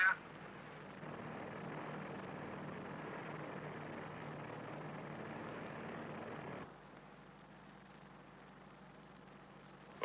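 A P-2V propeller aircraft flies over a nuclear test area, a steady droning engine hum that holds for several seconds, then drops abruptly to a fainter background tone.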